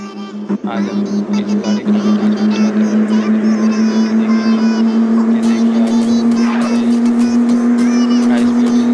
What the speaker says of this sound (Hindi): आज हम लोग नैनो में नैनो से ड्राइविंग करेंगे